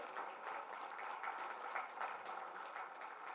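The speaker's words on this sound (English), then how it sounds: "Shall we give a big round of applause" Audience applause at a liver-care general body meeting in Hyderabad, a steady wash of many hands clapping that carries on without a break and without talk.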